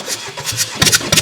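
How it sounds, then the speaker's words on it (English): A 2017 Vauxhall Combo van engine runs nearby, its rumble coming in short, uneven pulses of loud, rough noise. "sorry about the engine noise"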